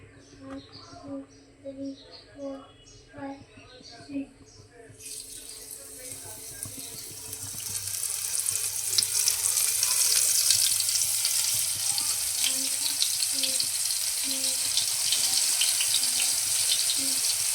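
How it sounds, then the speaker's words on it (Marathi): Bombay duck fish dredged in flour frying in hot oil on a high flame, a steady sizzle that builds from quieter kitchen sounds into a loud continuous crackle and hiss. "तेल चांगलं तापलंय आता त्याच्यामध्ये मी बोंबील पिठामध्ये घोळून"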